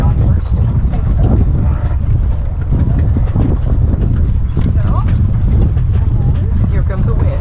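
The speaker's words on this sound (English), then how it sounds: "Here comes the wind." Wind rushes across a sailboat, a loud continuous buffeting roar on the microphone with rigging and deck noises, while people talk over it.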